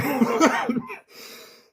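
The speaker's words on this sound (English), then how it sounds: "Sorry, that got me a bit of a coughing fit there." A short coughing fit from a man, with a few harsh close coughs in quick succession that trail off into quieter breathy sounds.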